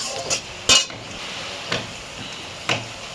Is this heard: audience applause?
no